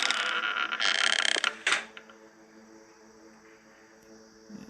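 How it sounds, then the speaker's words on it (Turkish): A long door creak followed by a sharp clunk as it shuts in the video game Hello Neighbor Diaries, then a quiet room with faint ambient hum. "Kapı açılmak kapanma sesleri"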